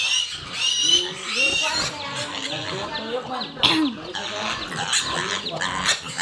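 Pigs kept at a neighbour's rural home squeal and grunt close by in short, irregular bursts, mixed in with people talking nearby.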